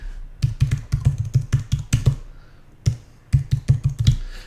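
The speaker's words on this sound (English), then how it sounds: "I'm gonna type my link here." Typing on a computer keyboard, close and crisp, with quick clusters of keystrokes broken by a brief pause before a final flurry of taps.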